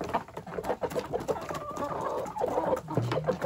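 Chickens cluck in a busy, close flurry of short calls and rustling, with a hen's louder cluck near the end, and no one talking.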